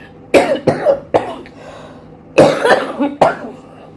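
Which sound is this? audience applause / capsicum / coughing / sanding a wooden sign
coughing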